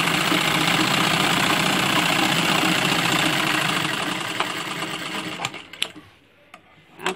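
A sewing machine stitches fabric while a dhoti shalwar is sewn, its fast whirring rattle running loud and steady, then winding down and stopping, followed by a few handling clicks.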